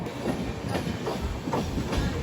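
Passenger train on the Visakhapatnam to Prayagraj weekly special, moving at cruising speed: a steady, loud rumble with repeated rail clickety-clack and a faint high hiss throughout, no voices.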